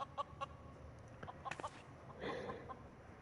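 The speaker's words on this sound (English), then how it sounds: "The Rooster's back." Rooster crowing in the video game Final Fantasy XIV, a short burst of clucking and crowing calls over steady background game music with a few softer bird-like notes.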